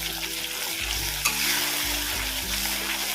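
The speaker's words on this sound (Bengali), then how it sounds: "জিরের গুঁড়ো ধনিয়া গুঁড়ো যে মশলাটা করেছি সে মশলাটা দিয়ে দিচ্ছি এবার ভালো করে পুরো মশলাটাই কষিয়ে নেব" Ground cumin and coriander spice paste sizzles and fries in a hot pan for a paneer curry, a continuous close hiss with the soft scrape of stirring.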